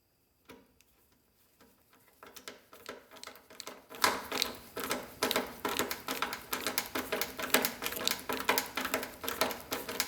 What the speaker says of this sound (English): variable speed reversing screwdriver. It also extends while we're at it.